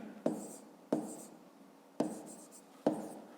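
Pen strokes on paper while a math calculation is written out, four short scratching bursts in a slow irregular rhythm, close and faint.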